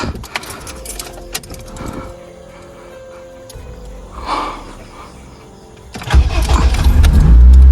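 An old car cranked after sitting unused: quiet clicks and rustling first, a brief mechanical whir near the middle, then the engine catches with a loud, close rumble that keeps building through the final seconds.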